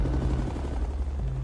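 A dense, steady rumble of helicopter gunships with gunfire in the action film Die Hard, loud and continuous through a short stretch with no pauses.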